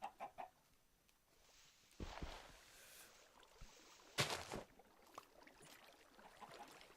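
Video game chicken clucks in short, faint bursts, with a couple of louder squawks standing out against quiet background noise.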